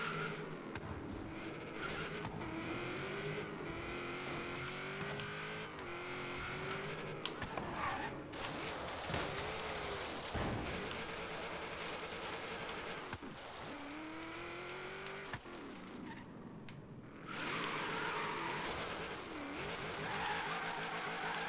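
Racing cars in the video game Forza Horizon 3, including a LaFerrari, roar and rev continuously while tires screech and skid through turns, engine pitch rising and falling across repeated high-speed passes.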